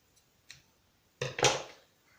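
Scissors snip excess threads off a macrame friendship bracelet, giving a soft click followed by two close, crisp cuts.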